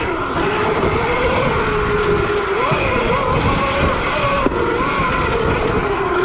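A Zero electric dirt bike with a 5kw Golden Motor rips through icy woods, its steady loud whine rising and falling with speed across the whole stretch.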